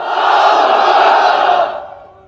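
A large crowd at a rally shouts a religious chant in unison, one loud sustained roar of many voices that swells and then fades away.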